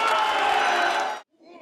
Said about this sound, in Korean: 국민의힘 쪽에선 박수와 환호가 터져나왔습니다